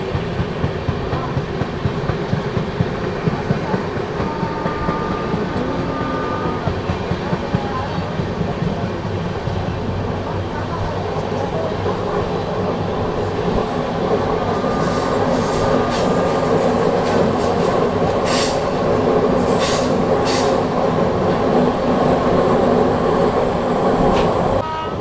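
AP Express from Visakhapatnam to New Delhi running steadily through a curved tunnel section after Betul, with continuous wheel and carriage rumble, a passing train approaching on the crossing line, rising hiss and clatter toward the end.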